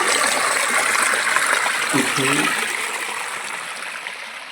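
The Burai river runs over cut rock behind a Shiva temple at Gangeshwar, giving a steady, close rush of flowing water that fades slightly, with a brief spoken word in the middle.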